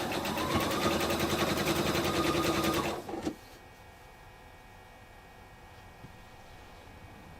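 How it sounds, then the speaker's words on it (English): A sewing machine stitches over a seam with a fast, even mechanical whirr for about three seconds, then stops abruptly and leaves near silence. "I'm sewing over every seam, and so you don't have to worry so much about the back stitching"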